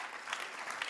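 Congregation at a Sunday church service breaking into steady, dense applause, a close wash of many hands clapping throughout the brief moment with no voices over it.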